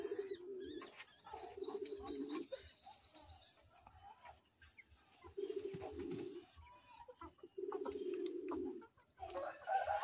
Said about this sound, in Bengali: পটারগুলো তার বাচ্চাকে খাওয়াচ্ছে।